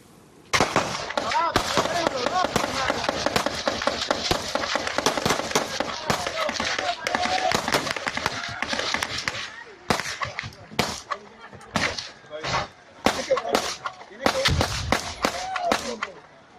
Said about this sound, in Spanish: Aquí aparece un policía disparando.